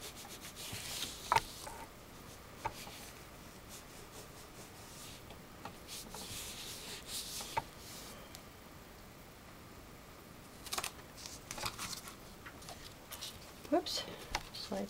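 A hand rubs across a sheet of vanilla cardstock pressed onto a rubber stamp, giving soft, intermittent papery swishes and brushing strokes, close and quiet, with a person talking between strokes.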